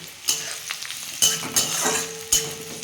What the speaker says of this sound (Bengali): এই পেঁয়াজটা রসুনটা ভালো করে ভাজবো